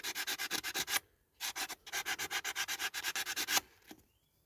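A diecast MGA model body being rubbed down by hand, a steady run of rapid, close scraping strokes in two bursts with a short pause between, no talking.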